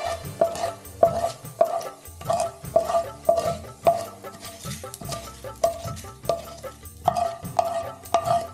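Whole spices such as coriander seeds and cumin being stir-fried in a pan for chicken sukka: a steady rhythm of scraping spoon strokes against the pan over a soft sizzle, close and fairly loud, with no talking.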